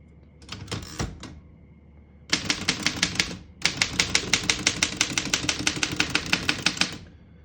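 Crisp key strikes on a 1927 Underwood No. 5 vintage desktop typewriter: a short cluster of hard clacks, a pause, then a long, steady, evenly paced run of loud mechanical typing close by.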